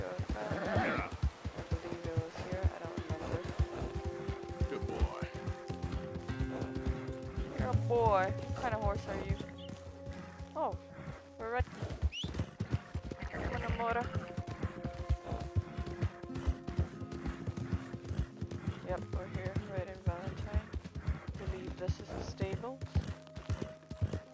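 Tennessee Walker horse hooves clip-clop steadily in Red Dead Redemption 2, beneath continuous game music and someone talking throughout.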